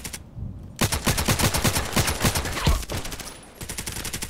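Rapid automatic gunfire from a gun in the shooter game Contract Wars, a loud sustained burst of closely spaced shots lasting a few seconds, with brief single shots before and after.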